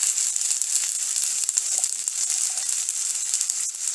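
Chilli powder hitting frying tomato in a pan produces a steady bright hiss and sizzle, close and continuous, with a few faint spatters and no speech.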